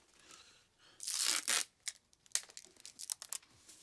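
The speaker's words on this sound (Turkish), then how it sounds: "Böyle kapatıyoruz koli bantıyla" Packing tape is ripped off the roll in one long loud screech, then short crackling pulls and taps follow as the tape is pressed down to seal a cardboard moving box.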